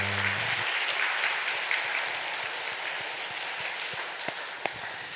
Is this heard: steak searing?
no